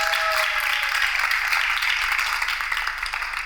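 Studio audience applause at a dating show, bright dense clapping from many hands that holds steady and eases off slightly toward the end, with a short vocal tone at the start.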